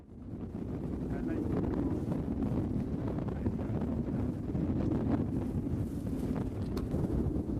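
Storm wind gusting past 40 knots buffets a sailboat under a storm trysail, a loud steady roar of wind hitting the microphone, with rushing water and a voice partly buried under the noise.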